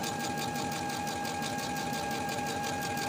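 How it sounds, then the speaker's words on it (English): A sewing machine runs at a steady, fast rhythmic whir while edge stitching a facing along the inner fold of a button-up top's bodice, close and continuous with no talking. "we're going to edge stitch close to that inner fold from top to bottom as well"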